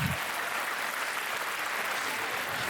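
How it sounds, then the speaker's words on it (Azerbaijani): An audience at an Azerbaijani meyxana majlis opening applauds the sound director, steady dense clapping filling the whole short stretch, loud and close, no talking. "Əvvəlcə səs rejissorumuz Cəlal qardaşımızı alqışlayaq."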